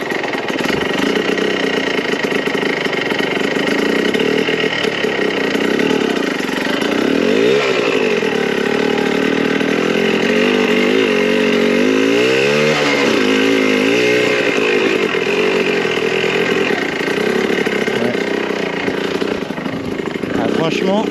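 A Yamaha YZ 125 two-stroke motorcycle engine fitted with a new spark plug and carburetor runs close and loud for the whole stretch, holding a buzzy idle with a few sharp throttle blips rising and falling.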